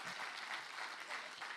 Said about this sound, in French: On l'applaudit très chaleureusement.